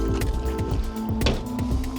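Water poured from a bottle to wash a truck, with repeated wet squishing, splashing and dripping bursts in an uneven rhythm, close and fairly loud.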